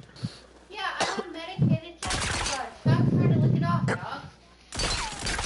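Gunfire from the Rogue Company video game rattles in short, loud bursts mixed with heavy overlapping talk from players.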